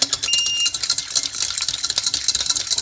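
A whisk beating lumps out of a white sauce made with milk in a pan, quick rhythmic metallic scraping and tapping strokes that repeat steadily and close by, with no talking.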